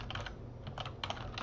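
Quick, light keystrokes tap out in short bursts on a computer keyboard, close and fairly quiet, with brief pauses between the flurries.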